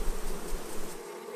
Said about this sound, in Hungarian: Óvatosan lerázzák és lesöprik a szorgoskodó méheket a lépről.